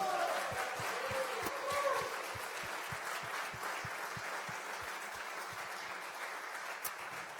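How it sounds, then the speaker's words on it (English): A design event audience applauds Fabio and Lara, a soft, distant patter of clapping with a rhythmic nearby clap, faint voices murmuring underneath. "I want another applause, a much, much bigger and louder applause for Fabio and Lara"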